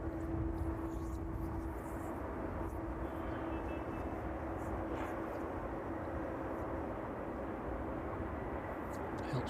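Jet airliner on or near runway 27 at East Midlands Airport in the evening, a steady broad engine roar with a sustained whine, continuous and moderately distant throughout.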